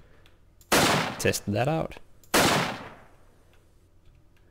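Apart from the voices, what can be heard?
shotgun firing in a video game weapons demo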